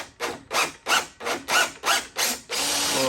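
A screw driven into a part of an industrial sewing machine table gives a rapid run of seven rhythmic ratcheting bursts, loud and close, then a steady mechanical whir at the end.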